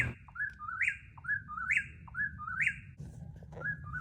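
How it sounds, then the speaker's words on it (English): Repeated bird song at night on the Appalachian Trail near the Virginia state line: a clear whistled phrase with a rising, trilling end, sung about four times in a steady rhythm, close and fairly loud over a low background rumble. "And we listened to this bird all night long."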